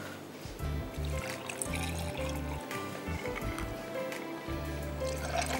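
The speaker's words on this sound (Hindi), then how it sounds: "पानी डालिए, ये लाइम कॉर्डियल का जो मिक्सचर है हमारा वो डालिए" Water and lime cordial mixture poured into a glass over ice, a steady liquid splash and trickle running almost continuously and close by, with low hum underneath.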